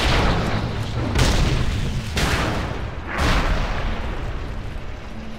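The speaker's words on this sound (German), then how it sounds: "Kanone der Horde." Heavy booming blasts of a Horde cannon in World of Warcraft roll through a continuous rumbling din, with a few sharp bursts standing out against the dense, loud background of game combat.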